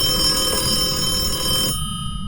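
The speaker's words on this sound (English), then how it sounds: "that phone is so loud" In the video game Phasmophobia, a telephone rings loudly with a steady electronic tone that cuts off abruptly near the end, leaving a low hum underneath.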